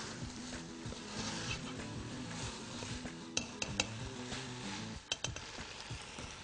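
Chicken kadai stirred in a pan with a squeeze of lemon juice, giving continuous sizzling under scraping and a few sharp metal clanks of a spoon against the pan, close and steady throughout.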